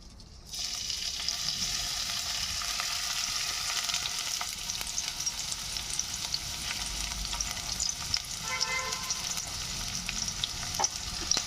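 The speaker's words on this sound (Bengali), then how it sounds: "তো এই পেঁয়াজ আর লঙ্কাটা একটু ফ্রাই করে নেব" Onion and chili fry in hot oil in a wok, a steady close sizzle that starts abruptly and runs on evenly with faint crackles and a few light scrapes near the end.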